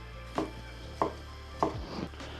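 A knife strikes a cutting board in slow, evenly spaced chops while cubing ham, four distinct knocks over a low steady background hum.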